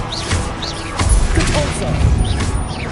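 Magic spells cast in Hogwarts Legacy on PS5, a rapid run of fiery blasts, crackling bursts and whooshing impacts layered over game music, loud and dense, with a voice calling out incantations between effects.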